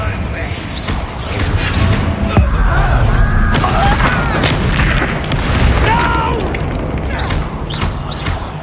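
Confringo fire spell exploding in Hogwarts Legacy, a loud, booming magical blast with crackling combat effects, dense mechanical rumble and game voices layered over it throughout.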